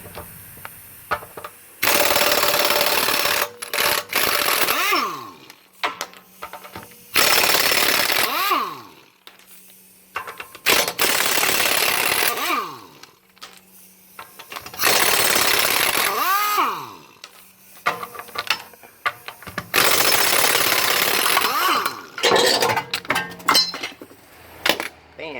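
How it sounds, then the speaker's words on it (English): Lug nuts, 17 mm, coming off the wheel of a 2006 VW Jetta in a home garage brake job: five loud, harsh mechanical bursts of a few seconds each, close by, with clanks and short quiet gaps between them. "So next we're going to remove the lug nuts. They are 17 millimeter."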